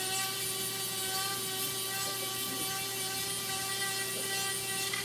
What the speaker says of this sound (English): So you can take your sander here,